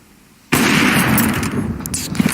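A grenade goes off in a CS:GO match on the Mirage map, a sudden loud burst that cuts in sharply after near-silence and leaves a sustained rushing roar with scattered crackles.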